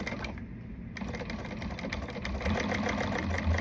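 A sewing machine stitches a seam steadily throughout, a quiet, continuous mechanical whirr with a faint rhythmic clatter that grows slightly louder toward the end.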